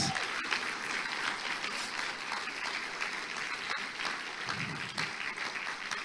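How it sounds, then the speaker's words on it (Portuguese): A church congregation claps continuously for several seconds, a dense even patter of many hands with occasional sharper claps standing out. "uma salva de palmas para Jesus."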